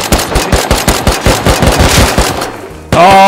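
Rapid automatic gunfire in the Rust survival game, a loud, close burst of about twenty evenly spaced shots over two and a half seconds, then a sudden harsh loud tone.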